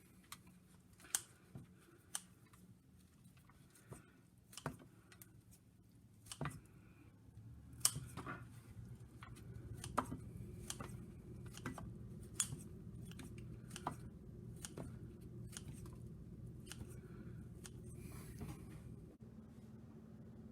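Bread chunks being cut up in a pan for an egg bake: soft, sparse snips and clicks scattered over a quiet background, with no talk.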